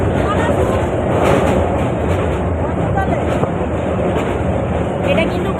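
A moving train rumbles steadily and loudly throughout, with a continuous dense roar and faint rhythmic clatter, while crossing near the Ganga river.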